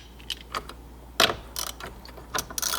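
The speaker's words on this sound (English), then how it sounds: "Get it right on the bolt. Breaker free." A ratchet with a 21mm socket breaks a steering wheel bolt free on a C6 Corvette, a few sharp metallic clicks and clacks with one louder snap in the middle, close and isolated.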